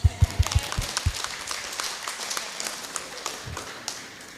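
Scattered clapping from an audience of teachers at an early-childhood numeracy talk show, heard as a few close, sharp claps followed by a lighter, sparse patter that fades out.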